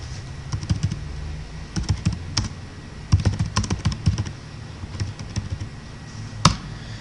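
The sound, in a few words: typing on a computer keyboard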